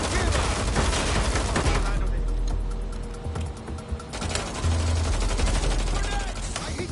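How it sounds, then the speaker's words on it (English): Rapid automatic gunfire in the video game Watch Dogs: Legion, loud sustained bursts with a brief lull in the middle before the shooting resumes. "Did you hear that gunshot?"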